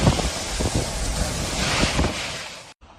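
Hurricane-force wind roars across the microphone with churning storm-surge waves, a loud, continuous rushing blast that cuts out abruptly near the end.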